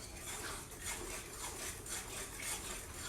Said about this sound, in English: I'm going to add my vanilla and mix that in